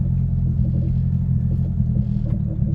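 Boosted Honda Civic EG engine holding a steady idle with a deep, continuous rumble, close and loud throughout, the revs staying even without dipping or stalling.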